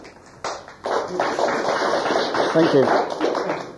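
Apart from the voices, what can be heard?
audience clapping for lecture speaker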